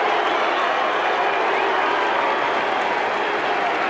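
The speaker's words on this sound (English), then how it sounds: "Crowd booing the referee." A rugby league crowd at half-time of a 1995 Sydney Bulldogs versus Canberra Raiders match boos the referee, a dense, steady roar of many voices filling the stadium throughout.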